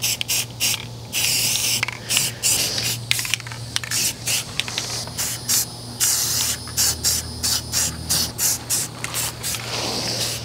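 A can of Krylon Color Max satin brown spray paint hisses in a long run of short, loud, close bursts, spraying steadily with brief stops between pulses.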